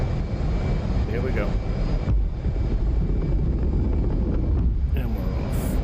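Simulated F/A-18E/F Super Hornet launching off an aircraft carrier in the DCS flight simulator, a steady loud roar of jet engine and wind noise throughout, with someone talking over it.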